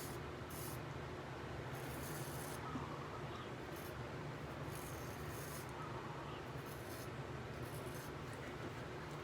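Honing on a Nagura stone gives a continuous close, gritty rubbing and rasping, with fainter sharp swishes recurring every second or so over the steady scrape and no voices.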